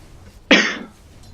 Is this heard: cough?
yes